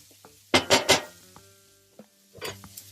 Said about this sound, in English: Just like to saute them a little bit.